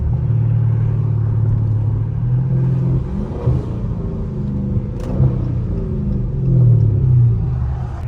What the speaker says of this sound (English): Them downshifts sound hella good